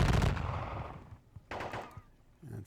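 Simulated gunfire in a Battle of Dennewitz tabletop wargame: a loud crackling burst that fades over about a second, then a second, shorter burst and a faint third, with no talking.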